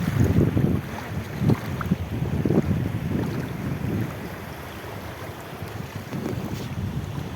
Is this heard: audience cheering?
no